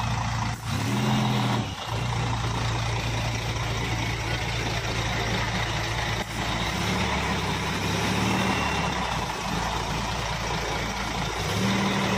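A bus engine idles and rumbles steadily as the bus reverses toward a bus wash, with a few brief hisses of air over the constant drone.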